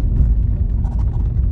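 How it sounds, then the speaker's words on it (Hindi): A car approaches on a night road, a steady loud low rumble with a whirring note that stays close throughout, with no talking. "सामने गाड़ी आई भाई, देखना"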